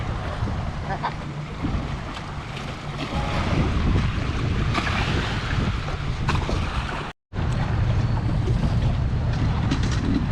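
A jet ski's two-stroke engine runs at half to three-quarter throttle during break-in, a steady droning whine over loud wind and water rush, with a brief dropout near the end.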